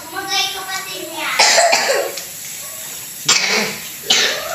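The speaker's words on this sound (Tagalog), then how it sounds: "Inuubo pa rin to." A sick child coughs in several sharp, separate bursts, close by, with faint child vocal sounds between the coughs.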